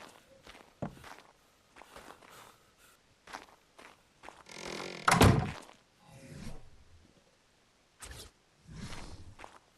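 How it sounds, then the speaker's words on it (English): Doors shut in Ark Survival Evolved, giving scattered thunks and clicks among footstep-like taps, with one louder, longer slam in the middle; close and fairly quiet, with no talking. "Let's shut our doors."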